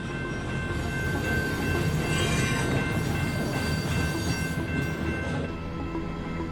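A train rolls past close beside the track, a loud continuous rumble and rattle of cars with some metallic whine, sustained throughout.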